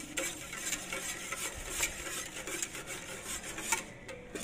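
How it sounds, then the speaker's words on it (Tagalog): A thick halva mixture, an Arabic sweet, is stirred continuously in a pan, producing a steady scraping and rubbing of the utensil against the pan with soft sizzling underneath, close and without pause, and no one speaking. "Haluin nyo mga continuous na lang siya."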